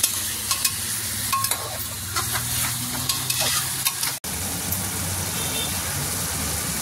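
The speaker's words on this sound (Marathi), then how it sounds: "छान भाजून घ्यायचं आहे, चांगलं परतून घ्यायचं." Chicken frying with onion and tomato in a pressure cooker pan, a steady close sizzle with scattered stirring clicks and scrapes, and a brief cut partway through.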